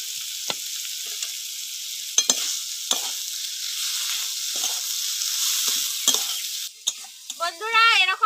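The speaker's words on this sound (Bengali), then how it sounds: "ভেজে রাখা চিংড়ি মাছগুলো দিয়ে দেবো।" Fried prawns tumble into a pan of bamboo shoot curry and get stirred through a bright, steady sizzle, with repeated scraping stir strokes close up.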